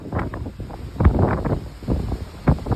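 Strong offshore wind buffets the microphone on the deck of the Royal Caribbean cruise ship Odyssey of the Seas, with loud, uneven gusty rumbles and bursts.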